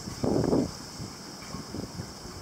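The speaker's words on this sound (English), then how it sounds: "Here comes a wind. You can hear it whipping in the rigging for the other boats." Wind gusts whip through boat rigging with a rushing, whipping roar, strongest early on, then settle into a steady breezy hiss with faint knocks.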